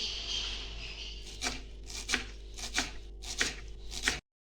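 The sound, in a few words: chopping onion finely with a knife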